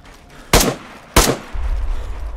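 Two loud, sharp gunshots about half a second apart in the survival video game DayZ, each with a short decaying tail, followed by a low steady rumble.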